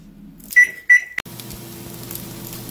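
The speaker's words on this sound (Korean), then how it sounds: "전자레인지에 넣고 10분 정도 돌리면 끝나는 줄 알았다." A microwave oven heating mozzarella cheese sticks gives a few sharp, loud beeps before settling into a steady close hum.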